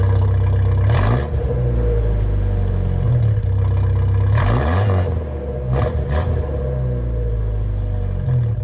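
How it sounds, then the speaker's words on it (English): A car engine revs up repeatedly through a newly installed, throaty exhaust system, loud and close, with rising and falling surges between steady idling. "And finally, we can test our new exhaust."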